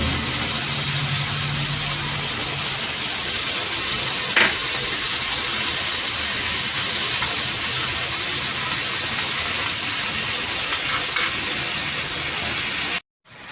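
Strained ground mustard, green chili and cumin paste frying in a hot pan, a steady, fairly loud sizzle that runs on throughout with a brief clink partway through, and no talking.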